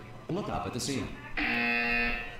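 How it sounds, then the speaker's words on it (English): In the game Portal 2, a steady electronic buzzer drones loudly for about a second, following a synthetic announcer voice. "You will hear a buzzer."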